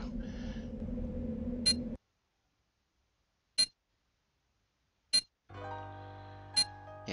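Sharp electronic beeps from a detector in the video game The Pandora Directive repeat at wide, slightly shrinking intervals through near silence, with brief bursts of game ambience at the start and end.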